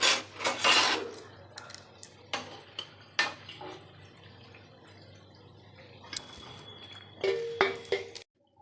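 Fried thekua lifted from a pan onto a plate, sparse metallic clinks and taps of a utensil against cookware, quiet and close, with a faint steady hum underneath.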